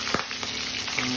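Chicken skin frying in hot oil, a dense steady sizzle with a few sharp pops and crackles breaking through, close and alone without any talk.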